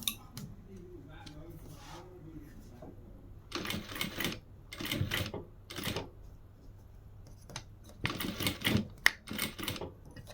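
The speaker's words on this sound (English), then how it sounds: "So I'm going to stop my sewing here where I'll mark the 1/4 inch" A sewing machine stitches binding onto a bag in several short, rhythmic bursts separated by pauses, fairly close, with a faint steady hum underneath.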